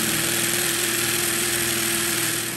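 A hammer drill bores into concrete with a loud, continuous grinding hammer roar that holds steady throughout and tails off slightly at the end.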